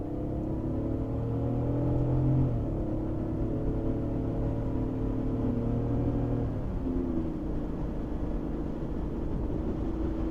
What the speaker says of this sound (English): let's give it one more highway on-ramp pull